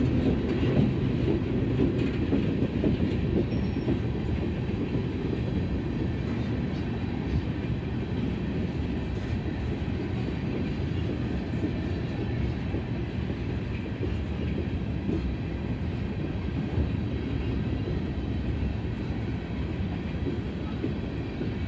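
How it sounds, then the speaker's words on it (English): A long freight train slows as it rolls into a rail yard, a continuous heavy rumble with faint rhythmic clacking of wheels, sustained without pause. "Even though it is going slower as it approaches the yard and enters the yard, it's still quite a long train."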